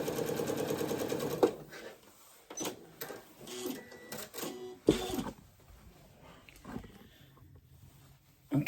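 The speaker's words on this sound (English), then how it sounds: "sew a 5/8 down here to put them together" A sewing machine runs a 5/8-inch seam joining pajama pant pieces, a steady rapid stitching hum in short bursts with pauses between, close and moderately loud.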